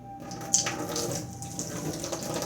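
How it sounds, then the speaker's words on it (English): Water pours steadily out of a heavy container into a basin, a close, continuous splashing rush with no pauses and no voices. "I'm going to pour that water out."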